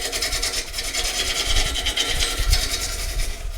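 A wood-turning tool makes a scraping cut on a spinning chainsawn blank, producing a loud continuous rasping, rubbing hiss with a low rumble beneath, close and steady throughout.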